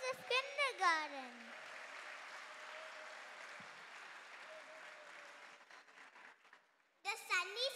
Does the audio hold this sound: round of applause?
yes